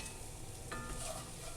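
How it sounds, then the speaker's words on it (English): Food sautéing in a pan over medium heat until browned, giving a steady, fairly quiet sizzle with occasional stirring scrapes and no talking. "we'll saute them until they're brown"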